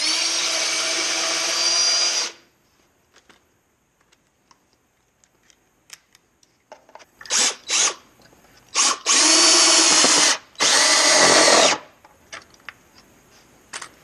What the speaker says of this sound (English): But we are going to pre-drill these because I don't want to split the lumber.